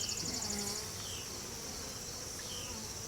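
Honey bees hum faintly around an open hive during an inspection, a thin steady buzz with a few brief louder passes near the start and later.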